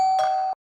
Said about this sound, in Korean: 다시 초인종이 울렸다.